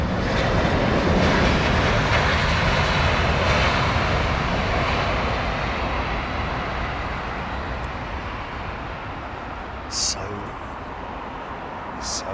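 Aircraft noise at London Heathrow Airport, a steady broadband engine roar that is loudest at the start and slowly fades over several seconds, with a couple of short high-pitched blips near the end.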